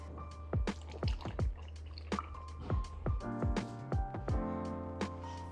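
Protein powder being stirred into milk in a tiny cup, heard as a run of close wet clinks and squishy liquid taps repeating irregularly, some quick pairs, over a low steady hum.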